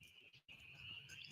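Night cicadas keep up a continuous high buzzing chorus, faint and steady, with a brief dropout partway through before the drone resumes unchanged.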